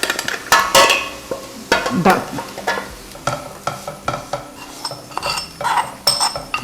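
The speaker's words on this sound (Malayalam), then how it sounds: "ഇത് ഈ നെയ്യിലിട്ട് ഒന്ന് ഫ്രൈ ചെയ്തെടുക്കണം." Jackfruit seeds frying in ghee over low heat, stirred with a spoon that scrapes and clinks against the pan in uneven bursts over a light sizzle, close by, with a brief spoken word.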